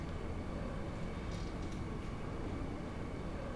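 Train ride in Final Fantasy 8: a steady, dense rumbling roar of a moving train, constant and broadband with no distinct clacks, heard alone at low level.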